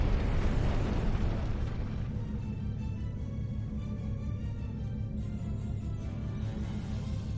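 A big explosion in the space video game Star Trek Online opens with a loud, broad blast that fades into a sustained low rumble lasting several seconds, with no voices.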